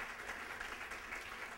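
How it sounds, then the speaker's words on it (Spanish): A church congregation applauding during a service, a steady wash of many hands clapping that sounds faint and distant and continues evenly without a break. "Aleluya, denle un aplauso a él"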